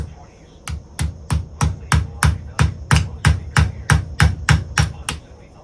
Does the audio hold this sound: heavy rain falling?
no